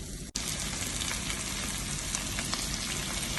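Prawns frying in a pan of spiced masala, a steady close-up sizzle and crackle that starts after a brief thump and carries on without a break, with no talking.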